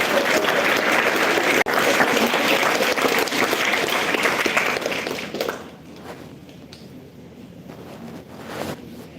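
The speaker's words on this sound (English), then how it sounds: "Can you please have a round of applause once again?" Audience applause at a women's day panel event, loud and steady for about five seconds before fading out, leaving a quiet room with faint movement.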